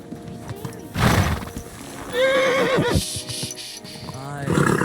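A horse in the video game Kingdom Come Deliverance II whinnies loudly twice, with a snort and shuffling in between and a voice briefly talking near the end.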